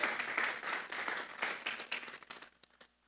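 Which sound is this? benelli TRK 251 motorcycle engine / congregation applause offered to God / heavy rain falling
congregation applause offered to God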